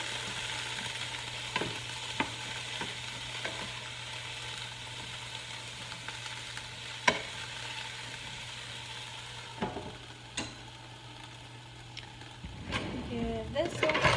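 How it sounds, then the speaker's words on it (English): Vegetables and patty pan squash frying in a pan, a faint steady sizzle with occasional clicks and utensil scrapes, and a brief clatter near the end. "Make sure that my veggies aren't like completely burning."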